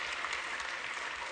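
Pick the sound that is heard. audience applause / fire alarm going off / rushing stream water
audience applause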